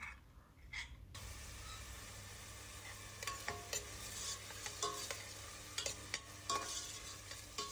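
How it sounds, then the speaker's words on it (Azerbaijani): Finely chopped onion fries in oil in a pan, a quiet steady sizzle with sharper stirring scrapes and clicks breaking in repeatedly. "Üzərinə yağ əlavə edib bunu biraz qovururam."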